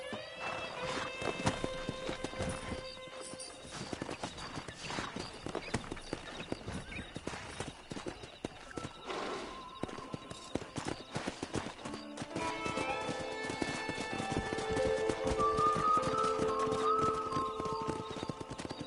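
Steady clip-clop of horse hooves on a hard surface with an occasional whinny, from a PS4 video game, layered over a busy, continuous background score.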